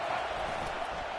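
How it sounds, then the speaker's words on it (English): Broad, steady crowd roar from a stadium audience in an American football video game after a defensive stop, loud and continuous with no break across the short stretch. "listen to this crowd roar"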